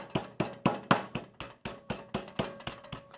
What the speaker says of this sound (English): Be sure to use the flat side of the mallet and not that side there